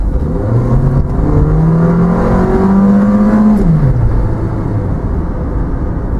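A 2000 Honda CR-V automatic accelerates hard, its engine note climbing steadily inside the cabin before the gearbox kicks down and the revs drop, then a loud steady road drone continues.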